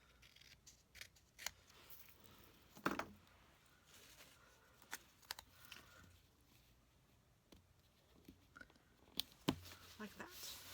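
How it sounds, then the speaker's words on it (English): Scissors snip paper while a card is being trimmed for card making, a handful of sharp, quiet cuts spaced apart with soft handling noises between them. "I'm going to trim it."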